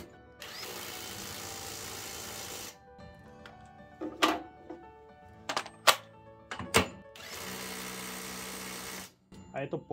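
A Ryobi R18IW3 cordless impact wrench on a 5 Ah battery, in mode 3 at 400 Nm, hammers on a wheel nut in loud sustained bursts at start and end. Sharp metallic clanks and knocks fall between them.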